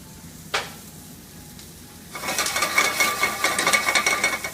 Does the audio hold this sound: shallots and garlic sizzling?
yes